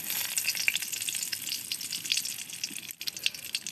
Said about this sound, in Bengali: কড়াইটা গরম হয়েছে, এখন আমি যে তেল দিয়ে দিতেছি। মাংসের মধ্যে টিকে তেল বেশি নাগে, তেজপাতা দিয়ে দিলাম,